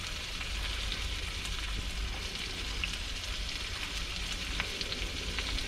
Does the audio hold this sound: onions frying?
yes